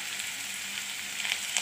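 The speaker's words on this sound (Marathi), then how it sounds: "आणि आता कांदा मी टाकला पटकन तेलामध्ये" Chopped onion sizzles in hot oil in a pan while vegetarian thali dishes are cooked, a steady, soft, close frying hiss without pause.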